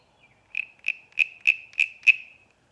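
A small wooden frog guiro is played to mimic ribbits, giving six evenly spaced, high-pitched rasping croaks, close and clear against silence.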